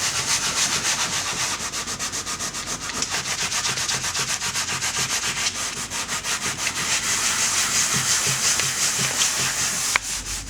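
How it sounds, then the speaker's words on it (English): A sanding pad scrubs the painted top coat off a leather car seat in fast, regular back-and-forth strokes, a loud rasping rub repeating steadily and close up with no talking. "use the sanding pad to sand down the top layer, take the paint off the top layer of the seat itself"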